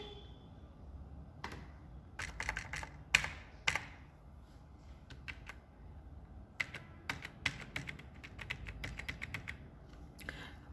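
Someone types on a computer keyboard while writing a document, quiet irregular clusters of key clicks and taps with brief pauses, faint and close in an otherwise hushed room.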